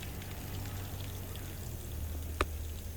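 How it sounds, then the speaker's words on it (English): A little excess water is poured out of a container during a home workout session, a soft, steady pour running low and quiet throughout, with one brief splash or tap near the end. "Just gonna pour a little excess water out."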